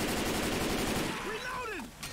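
Dense, rapid automatic gunfire fills the first second or so in the video game Left 4 Dead 2, then stops as a voice speaks over fading game noise.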